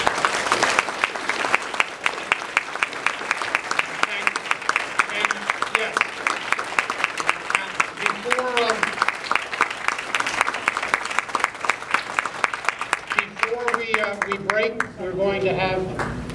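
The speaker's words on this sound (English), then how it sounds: "let's have one last round of applause for all of our veterans" An audience at a military medals ceremony gives veterans a sustained round of applause, dense clapping that lasts throughout, with a voice speaking briefly near the end.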